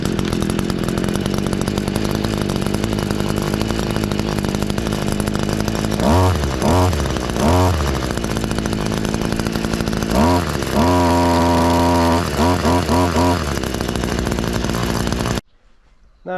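An Oleo-Mac BCH 250T engine, choke off, fires up and runs at a loud, steady buzzing idle, with several sharp revving bursts partway through before it cuts off abruptly near the end.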